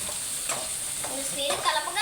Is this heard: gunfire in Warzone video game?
no